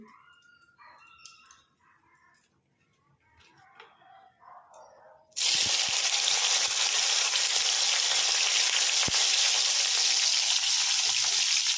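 Bitter gourd dropping into hot oil sets off a sudden loud, dense frying hiss partway through that stays constant to the end, after a quieter stretch of faint clatter and background sounds; no speech.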